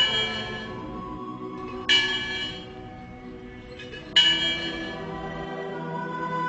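Orthodox church bells ringing in a town neighbourhood, two clear bright strikes a couple of seconds apart, each ringing out and fading over a low hum.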